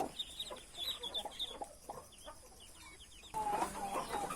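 A mother duck calls her ducklings down from the nest with soft clucking and chirping calls in short repeated bursts, close by, with a denser cluster of calls near the end.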